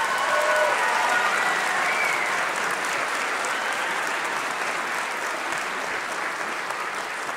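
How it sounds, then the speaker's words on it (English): A large audience at a high school orchestra winter concert gives sustained applause, a full, even roar of clapping that fills the hall and stays steady throughout. "So let's give them a round of applause again."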